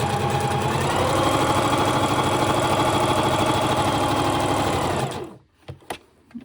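A sewing machine runs steadily and loudly for about five seconds while stitching a washable fabric face mask, then stops, leaving a few faint handling clicks.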